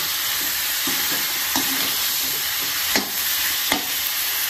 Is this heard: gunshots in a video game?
no